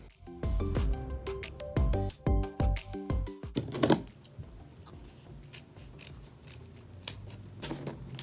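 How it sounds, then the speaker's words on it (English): Scissors snip repeatedly through backpack strap material, a run of close, crisp cuts in quick succession, then a few quieter handling sounds and isolated snips. "the first thing I'm gonna do is cut the straps to the length that I need them to be"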